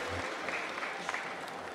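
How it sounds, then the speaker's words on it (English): A short burst of audience applause at a comic convention game high-score challenge, a steady, moderately faint patter of many hands with a few louder claps. "Round of applause anyway, though, for John."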